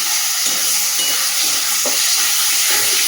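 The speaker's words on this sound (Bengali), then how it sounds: "চলো এটা ভালো করে নাড়িয়ে নিই।" Roasted eggplant mashed with tomato is stirred in a hot pan, giving a loud, steady hissing sizzle with soft scraping strokes every half second or so. The sound is close and no one talks.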